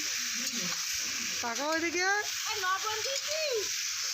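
Potatoes fry in oil in a pan at an outdoor neighbourhood picnic, a steady hiss and sizzle running underneath people talking nearby, including a high voice.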